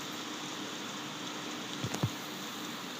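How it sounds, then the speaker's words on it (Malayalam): Steady rain hisses evenly in a raft survival video game, with a couple of brief soft knocks near the middle and no other sounds. "മഴ പെയ്യുന്നുണ്ട്."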